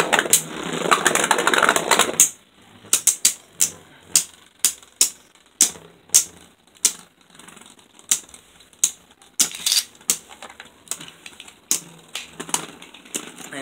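Beyblade Burst Turbo tops Omega Orichalcum and Breaker Xcalius are launched with a brief whirring rip, then clash in a stadium with a long run of sharp, irregular clicking impacts.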